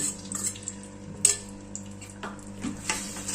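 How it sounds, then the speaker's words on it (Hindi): Milk-soaked semolina goes into melted ghee in a pan over low to medium flame, giving soft wet sizzling and stirring with light clinks of a spoon against the pan. "इस पिघले हुए घी में डाल देंगे ये दूध में भीगी हुई सूजी"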